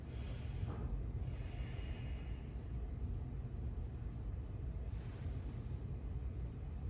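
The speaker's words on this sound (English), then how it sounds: "Take some nice deep breaths." Slow, deep breaths of a person lying down to relax, two soft hissing inhales or exhales a few seconds apart over a quiet low room rumble.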